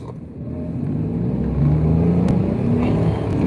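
A car passes at close range in a hurry, a steady low engine drone swelling louder over the few seconds with a rising tone, heard outdoors without speech.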